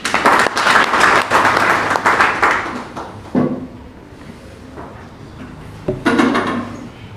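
At a seminar, an audience claps to welcome a guest. A loud burst of applause fades after about three seconds, and a shorter round of clapping returns near the end.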